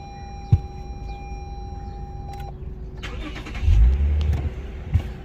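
A 2017 Lexus GS450 starting up: steady chime tones ring first, then a short low rumble swells briefly and fades, with a few clicks around it and no talking.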